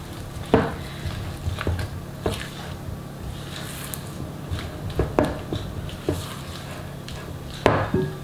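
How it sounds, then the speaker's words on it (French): Sugar being stirred into a mascarpone cheesecake batter in a bowl, with soft squishy scraping and a few sharper spoon knocks against the side, close and fairly quiet, without talk. "100 g de sucre et on mélange."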